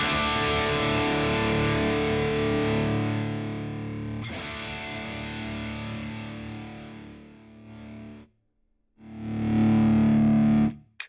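Distorted electric guitar played through a CabClone IR attenuator set to -16, with loud sustained chords, a brief silent break near the end, then a final strong chord cut off sharply.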